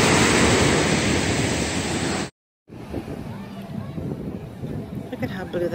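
Calm Caribbean surf on a beach near Cancun washes loudly for about two seconds, then cuts out briefly before returning more quietly with a voice talking over it.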